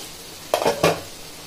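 A spoon stirring egg gravy in a cooking pan, two short scraping strokes against the metal over a faint sizzle, close up, with no one talking.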